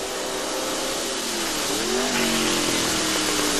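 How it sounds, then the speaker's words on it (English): A vintage race car at the Monterey Historics revs through a double-clutch downshift, the engine pitch dipping then climbing again under a loud, steady rushing roar heard from on board. "Little double clutch downshifting as Brian crests the hill"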